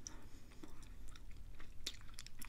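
Cheese enchiladas being chewed up close for a quiet ASMR session, with soft, wet mouth sounds and small crunchy clicks recurring irregularly over a faint background, with no talking.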